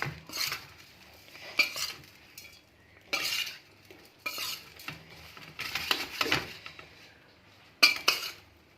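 A spoon stirs and tosses mixed vegetable achar pickle in a metal vessel, giving irregular bursts of scraping and clinking with quiet gaps between them.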